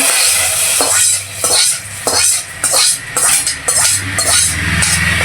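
Cumin tempering poured into a pot of spinach dalcha with ghee, sizzling continuously while a utensil stirs and clinks against the pan in repeated bursts, close and fairly loud with no talking.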